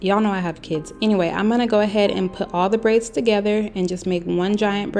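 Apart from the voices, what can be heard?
No everyday noise stands out behind the speech.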